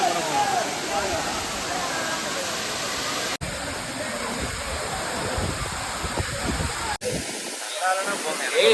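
Waterfall at Courtallam roars as a dense, steady wash of rushing water, loud and close, with two abrupt cuts between segments and voices faintly beneath near the end.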